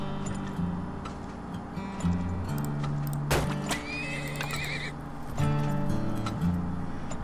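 Horse in the video game Turmoil whinnying several times over a steady background hum, with clip-clop hooves and small ticking sounds mixed in.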